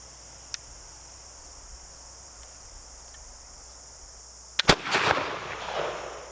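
A Dikar flintlock pistol fires outdoors with a small click, then after a long pause a sharp ignition pop followed at once by a loud shot and a lingering rumble, over steady insect chirping.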